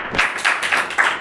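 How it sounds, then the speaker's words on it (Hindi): A classroom of students clapping loudly together, quick bursts of claps in an uneven rhythm, close and fairly loud with no one speaking. "तो जोरदार ताली बजाइए"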